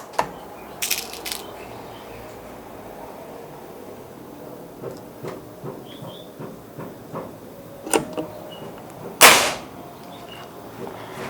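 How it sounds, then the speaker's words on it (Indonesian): A single sharp report from a PCP Mauser air rifle fired during a velocity test, loud and close, standing out against faint background noise with a few softer clicks and knocks around it. "kita lanjut untuk tembakan yang ketiga"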